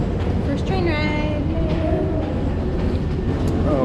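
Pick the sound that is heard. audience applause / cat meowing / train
train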